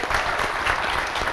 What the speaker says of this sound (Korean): 네, 박수 주시죠.